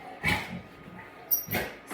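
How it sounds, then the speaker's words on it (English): A dog at home during a gentle spinal movement yoga session gives two short yips or barks, fairly close, with a quiet gap between them. "hey doggy, stop"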